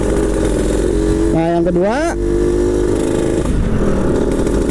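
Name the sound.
Yamaha Alfa motorcycle engine revving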